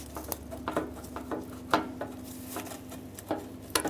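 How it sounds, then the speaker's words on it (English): A wiring connector is worked loose from the back of a glass headlight on a Ford E-350 Super Duty van, giving a quiet string of small plastic clicks and rattles with soft handling noise and no talking. "And you're going to disconnect your connector."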